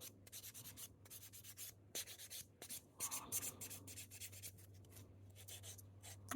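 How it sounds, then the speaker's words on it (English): Fingernails being filed and buffed with a nail file, a faint, close, rhythmic scratchy rubbing in quick repeated strokes against a low steady hum, with no talking. "I'll finish off the others, the filing of the other nails"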